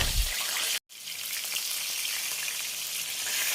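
Fried chicken frying in a pan, a steady dense sizzle with fine crackling pops that runs almost without pause, broken only by one brief dropout, close and even with no voices.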